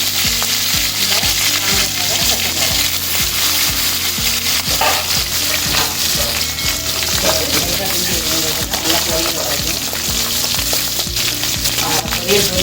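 Loud, continuous crackling and sizzling of spices frying in hot oil for chicken 65 masala, close up, with occasional stirring scrapes throughout.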